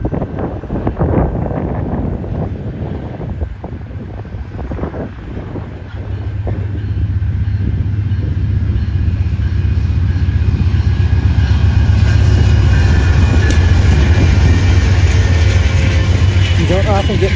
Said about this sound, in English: the westbound California Zephyr started rolling through.